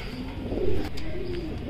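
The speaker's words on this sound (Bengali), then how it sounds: "এটা হাউস পিজন, বাট এটা অ্যান্ডালুসিয়ান ব্লাড লাইন" A house pigeon of Andalusian bloodline, a large fancy breed kept on a farm in Natore, coos softly in a steady low murmur over a background hum, heard alone without talk.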